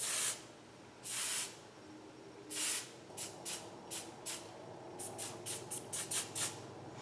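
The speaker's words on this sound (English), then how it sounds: "you're gonna need some hairspray. So just make sure to spray down what you've got here." Short hissing bursts of aerosol hairspray, a few longer blasts first and then a quicker run of brief puffs, close and fairly quiet.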